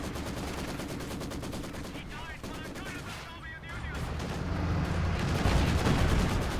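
A Maxim machine gun fires in Company of Heroes 2, rapid bursts of rattling gunfire over continuous battle noise. The shooting fades briefly in the middle, then the combat swells louder toward the end.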